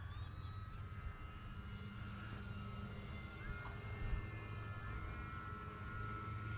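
An RC Tecnam model airplane, a maiden flight of the 2010 model, drones steadily overhead with a sustained engine whine that drifts in pitch, moderately distant and continuous throughout without any talk.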